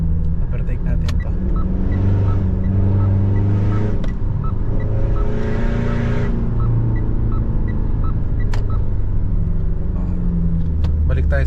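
Mitsubishi Strada pickup engine pulling hard to overtake in second gear, a steady loud rumble rising in pitch with revving, heard from inside the cab under continuous talk.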